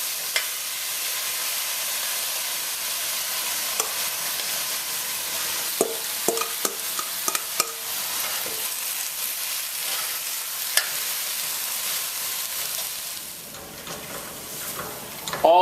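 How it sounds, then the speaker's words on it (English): Seasoned pork sizzles steadily in a hot pot over high heat, with a broad, continuous frying hiss and scattered clinks and scrapes as a spoon stirs the meat. "Just keep adding and stirring."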